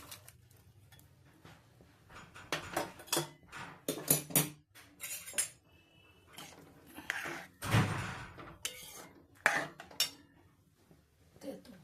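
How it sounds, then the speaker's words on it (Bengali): Lentils dropped into a cooking pot for a spinach dal, heard as a string of close, sharp metallic clinks and knocks of utensil against pot, scattered irregularly with short pauses and faint low background rumble. "এবার আমি ওই ডালটা এর ভেতর দেবো"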